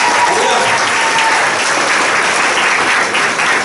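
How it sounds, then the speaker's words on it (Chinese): A church audience at a music and gospel evening applauds loudly, a thick, unbroken wash of clapping from many people that holds steady from start to finish. "来，给自己一些掌声。"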